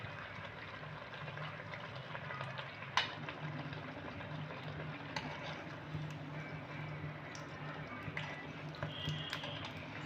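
Battered eggplant slices, beguni, frying in oil, a faint continuous bubbling sizzle with occasional soft pops and clicks over about ten seconds, with no voices.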